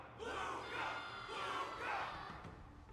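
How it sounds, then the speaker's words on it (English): A video game crowd cheers during a battle event, a sustained chorus of massed voices rising and falling in rolling swells without individual speech standing out. "Can't you hear? Everyone's cheering for you, Luca."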